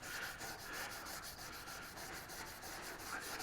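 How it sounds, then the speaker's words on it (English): Steady back-and-forth sanding scrapes on the old paint of a 1979 Chevy K20 truck fender, rhythmic and close, with no talking. "lot of sanding to get that."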